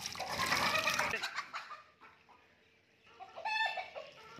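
Chickens clucking close by in a coop while their water is being changed, a burst of overlapping clucks and squawks at the start, then scattered softer calls and another cluster near the end.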